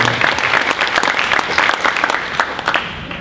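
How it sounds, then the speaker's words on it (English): An audience at a Rocktown High School opening celebration applauds steadily, with dense, continuous clapping that stays loud throughout and has no voices over it. "So can we applaud them for their commitment and dedication to the Northeast neighborhood?"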